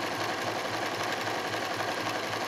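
A sewing machine runs continuously at a fast, even stitching rhythm, its steady mechanical whir and pulse close and alone with no talking.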